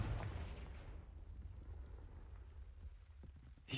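A Confringo blasting spell going off in Hogwarts Legacy: a loud, booming burst at the start that rolls into a long, crackling rumble and fades, with a fresh sharp crack right at the end.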